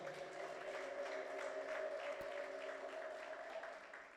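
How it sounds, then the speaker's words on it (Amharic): A church congregation applauds during a sermon, with dense, sustained clapping and high ululating voices carried across a large room, steady for a few seconds and then easing slightly. "እልልታ ጭብጨባ ለዚህ ጌታ ይሆን።"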